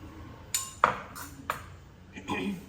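A spoon clinks against a bowl of melon juice as sugar is added, several sharp metallic taps scattered irregularly with faint scraping between them.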